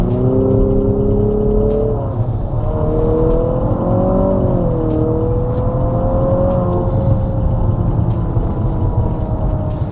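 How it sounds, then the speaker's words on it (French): A 2022 Infiniti QX55 engine revs hard with strong intake noise coming from the front, a loud rising and falling whine and drone that sweeps up and down several times, close and continuous without talk. "On reçoit beaucoup de bruit qui vient de l'avant du véhicule et non de l'échappement."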